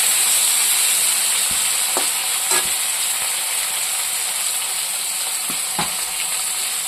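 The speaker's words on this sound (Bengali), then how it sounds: "টমেটোটা আমি একটু ভাজা ভাজা করবো" Tomato fries with cumin in a pan, giving a steady, even sizzle with a few faint pops and stirring clicks, close and uninterrupted, with no voices.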